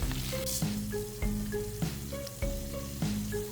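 Onions and chilies frying in the oil left from frying hilsa fish, a continuous hissing sizzle running throughout beneath louder rhythmic background music.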